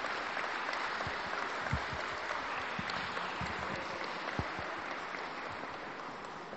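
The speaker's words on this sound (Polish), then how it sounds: "głośne brawa dla wszystkich" An audience, including small children, clapping at a local event, a dense continuous wash of applause heard from a distance, steady throughout.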